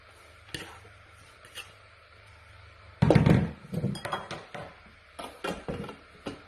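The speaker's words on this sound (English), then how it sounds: "We'll just give our bowl a quick scrape down." A quick scrape around a mixing bowl of freshly ground sugar, heard as a series of close clinks and scratchy knocks after a quiet stretch, with no voices.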